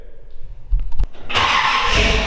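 A 1932 Ford Roadster with a GM 350 TPI engine and a 700R4 automatic cranks with a few clicks, then catches and settles into a loud, close, throaty idle as it starts to back out.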